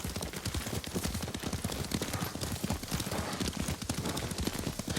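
Horse hooves clip-clop in a fast, steady rhythm while riding in Ghost of Tsushima, loud and continuous over a dense game soundscape.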